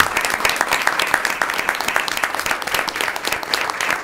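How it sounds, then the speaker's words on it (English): Applause at a school committee meeting honoring a coach, a dense round of many hands clapping steadily throughout at moderate loudness. "can we have a round of applause for Coach Ricciatelli?"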